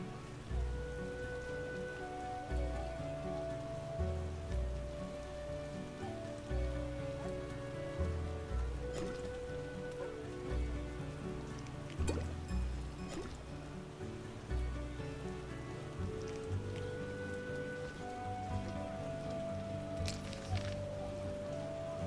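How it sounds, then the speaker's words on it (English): Steady, heavy rainfall in The Witcher video game pours down evenly throughout, with occasional louder splashes and a low background hum beneath it. "It's raining hard."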